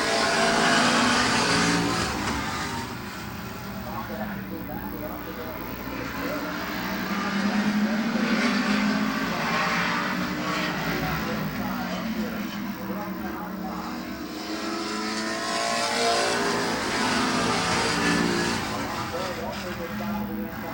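Stock cars race at Midvale Speedway, their engines making a continuous, fairly loud roar that swells and eases as they circle the track, with an announcer talking over the noise.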